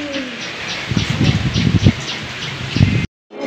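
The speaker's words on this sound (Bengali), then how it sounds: "আর হাওয়াও দিচ্ছে, ঝোড়ো হাওয়া" Gusty stormy wind from Cyclone Remal rushing outdoors with rustling leaves and a bird calling; loud and close, cutting off abruptly near the end.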